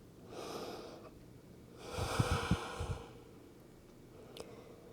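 Slow breathing during a yoga pause in a beginner hatha session: a soft inhale, then a longer, louder exhale with a slight nasal snort, close to the microphone and with no talking.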